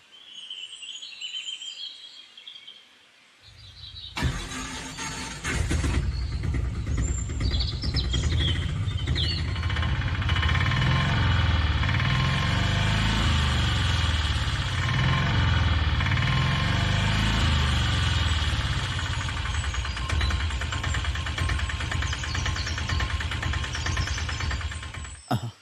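Birds chirp faintly, then an auto rickshaw engine starts abruptly and settles into a steady, loud, pulsing run close by that continues to the end.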